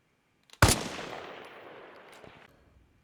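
A single loud sniper rifle shot in the video game Arma Reforger cracks sharply and then rolls off into a long echoing tail that fades over about two seconds.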